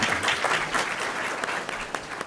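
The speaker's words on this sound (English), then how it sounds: "Give him a round of applause." An audience at a public meeting on Chicago city finances gives a round of applause, a dense wash of many clapping hands sustained throughout at moderate volume.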